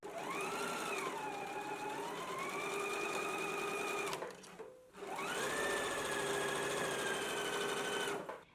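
Sewing machine stitching a skirt placket seam in two long continuous runs, steady whirring motor with a brief pause between, close and clear with no talk.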